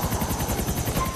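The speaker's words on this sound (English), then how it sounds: "And then you grab onto the chopper." A helicopter in GTA IV gives a loud, close, rapid rhythmic rotor chop with a steady engine whine running underneath, heard alone.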